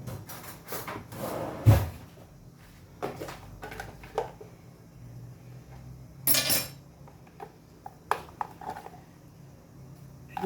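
Someone rummages through a home kitchen for a spoon: scattered clatters of cupboards, drawers and cutlery, with sharp knocks and scrapes spread across pauses.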